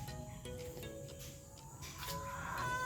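Faint chicken clucking sounds under a steady hum and background noise, with short intermittent calls.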